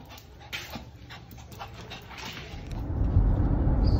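A dog pants rapidly and steadily up close inside a car, the quick breaths running throughout as engine rumble swells in the background.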